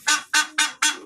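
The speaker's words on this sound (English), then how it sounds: "Different kinds of ducks, birds" Ornamental ducks and fowl calling up close, four loud honking quacks in a quick steady rhythm with no voices over them.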